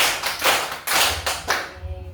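Classroom children clap in unison to a counted beat, a few sharp claps close together and then a pause, with a teacher's counting voice just before.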